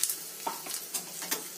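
Asafoetida hits a hot oil tempering of mustard seeds, fenugreek and dried red chillies in a small pan, a brief close sizzle with a few distinct crackles and stirring scrapes.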